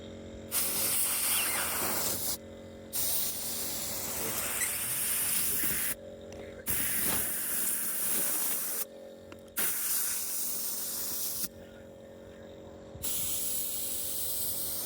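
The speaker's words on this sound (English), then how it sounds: "got myself some compressed air" A can of compressed air sprays in repeated loud, close hissing blasts lasting a few seconds each, separated by brief pauses, during maintenance on a Mercedes W126.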